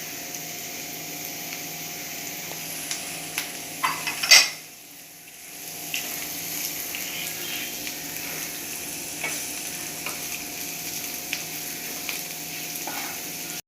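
Chopped onions, salt and crushed chili sizzle steadily in a pan as a spoon stirs them for a Kerala stir-fry, with light scraping clicks and one sharper knock over a constant frying hiss.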